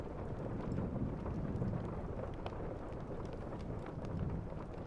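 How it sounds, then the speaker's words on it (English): Steady rain patters against a window in a cozy house, forming a dense, even wash of sound with a soft low rumble that fits distant thunder. It is moderately loud throughout with no voices. "listening to the sound of rain and the distant thunder"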